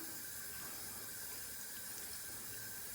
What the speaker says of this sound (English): I'll then hit it with a little bit of cold water.